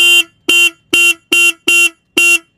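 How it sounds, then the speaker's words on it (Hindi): A loud Royal Enfield Goan Classic 350 motorcycle horn honks six times in short, evenly spaced blasts, each a bright buzzy tone with silence between. "हॉर्न साउंड भी बहुत बढ़िया दमदार"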